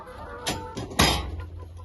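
Young Ataks pullets on a farm cluck in a few short close bursts, one sharper call standing out near the end, with no talk over them.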